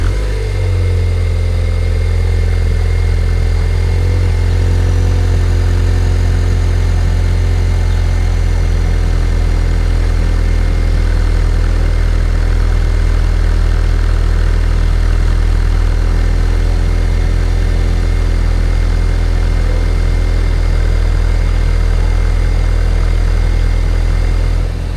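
A Ford Focus ST with the muffler and resonator deleted idles on a cold start: a loud, deep, steady exhaust rumble held close and unbroken for the full stretch, with no talking.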